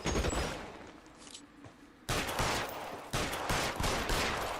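Rapid bursts of gunfire in the LA Noire game, sharp volleys starting abruptly and repeating in close succession over a steady background, no talking.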